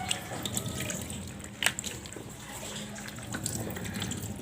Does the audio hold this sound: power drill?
no